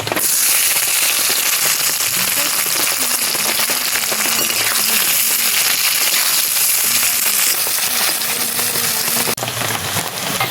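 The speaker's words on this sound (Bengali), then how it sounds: "দিয়ে দিচ্ছি জিরে, দিচ্ছি দুটো তেজপাতা, কুচানো পেঁয়াজ দিয়ে দিচ্ছি।" Chopped onions with cumin and bay leaves frying in hot oil give a loud, dense, continuous crackling sizzle that holds steady throughout, heard up close with no talking.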